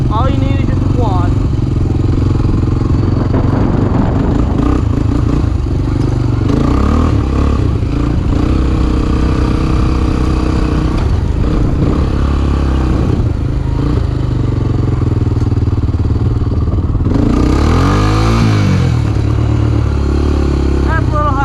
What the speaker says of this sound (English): That's a little higher than I like to rev it.